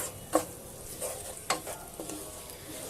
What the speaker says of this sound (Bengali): আর এখন আমি সব কিছু ভালো করে মিশিয়ে নিচ্ছি।